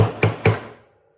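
A reworked Harbor Freight hammer strikes metal stamps on a table end, giving three sharp, ringing metallic blows in quick succession, loud and close, the last one fading into a brief ring.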